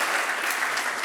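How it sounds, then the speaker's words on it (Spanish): An audience claps together in a dense, steady burst of applause, fairly loud and close, filling the moment briefly without voices over it. "el aplauso es corto y no les acompaña"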